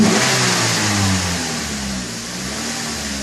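A 2009 Toyota Corolla engine revs steadily as the gas pedal is held down, a loud, sustained mid-pitched drone that eases off slightly toward the end, heard close up with no talking.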